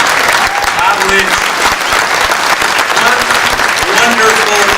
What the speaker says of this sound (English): let's give a round of applause to your ordinary Archbishop Bob Lynch